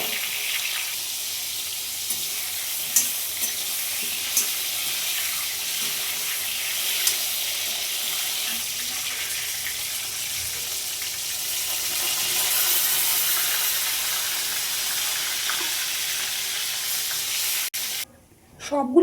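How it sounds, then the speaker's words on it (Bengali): Pointed gourd (potol) fries in oil in an iron wok with a steady, close hiss and sizzle, with a few soft knocks of stirring scattered through before a sudden stop near the end. "এইবার পটলগুলোকে আমি এর মধ্যে দিয়ে ভেজে নেব।"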